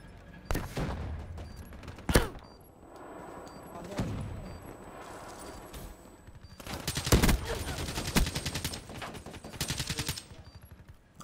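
Black Ops 3 multiplayer gunfire rattles in bursts of rapid automatic shots and single cracks, loud and close, with a player talking over the action.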